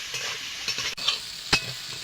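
Prawns sizzling in a hot pan while being stirred, a steady frying hiss broken by a few sharp scrapes and clinks of the spatula, close up with no one talking.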